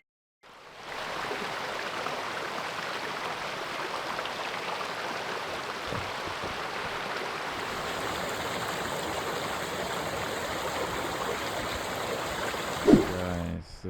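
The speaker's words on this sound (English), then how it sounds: "There's a river and the water is red." A river with reddish water runs steadily in the open, a continuous broadband rush of flowing water at close range. It holds an even level throughout, with a brief knock near the end.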